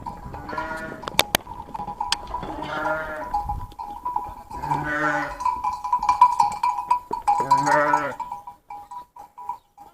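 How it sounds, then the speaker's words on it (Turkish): Sheep and lambs bleat repeatedly in several separate calls, close by on a pasture during lambing, with a steady tonal hum running underneath and some handling noise. "Şimdi koyunları açalım. Kuzuları."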